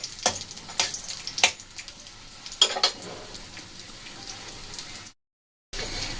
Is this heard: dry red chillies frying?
yes